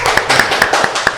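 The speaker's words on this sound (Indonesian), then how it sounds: "Wih, tepuk tangan dulu dong untuk Unmas nih." Audience clapping at a campus event: a short burst of several pairs of hands clapping close by in a quick, uneven rhythm.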